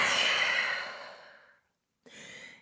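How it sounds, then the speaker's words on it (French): A long, deep exhale sighs out steadily during a vinyasa yoga session in downward dog, fading over about a second and a half, then after a brief pause a fresh breath begins, close and unaccompanied by talk. "Grande respiration ici"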